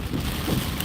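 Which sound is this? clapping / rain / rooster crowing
rain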